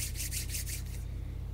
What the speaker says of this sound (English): I want you to rub your hands like this